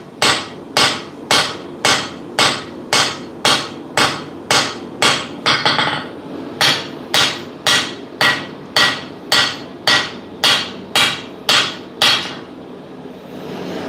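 Loud, regular hammer blows on metal at a blacksmith's forge, about two strikes per second in a steady rhythm with a brief burst of scraping around six seconds, ending just after twelve seconds with no talking.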